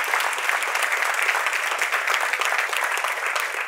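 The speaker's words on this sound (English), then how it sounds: "You can clap on that one." Steady applause from a church conference audience, dense clapping filling the room evenly and continuously for several seconds without a break.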